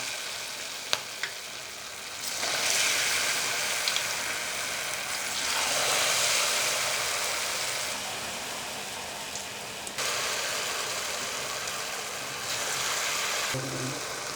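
Potato bondas coated in cornflour batter bubble and hiss as they fry in hot oil in a kadai, the sizzle swelling in bursts and easing between, close and moderate, with a few small clinks and no speech.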